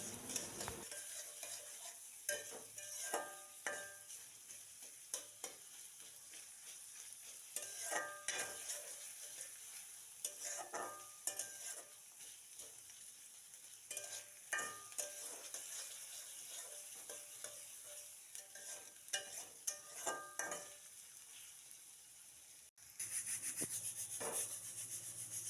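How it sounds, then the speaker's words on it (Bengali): Onions frying in a pan for tempering, a soft continuous sizzle with intermittent scraping stir strokes, fairly faint and alone with no talk. "আর এক চুলায় বাগার দেওয়ার জন্য কিছু পেঁয়াজ ভেজে নিচ্ছি।"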